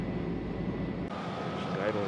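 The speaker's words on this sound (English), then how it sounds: "She's idling down nice now." A Chevy Astro van engine, fitted with an upgraded high-output alternator, runs at a steady low idle, with a continuous droning rumble heard up close. Muffled talk rides over the engine for most of the moment.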